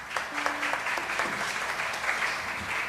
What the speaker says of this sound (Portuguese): E a minha salva de palmas para o Senhor Jesus.